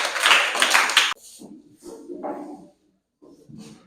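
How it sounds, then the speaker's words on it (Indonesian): Classroom of students clapping for a presenting group, a loud burst of many hands lasting about a second, then cutting off into quieter scattered movement and murmuring. "Tepuk tangan untuk kelompok 1."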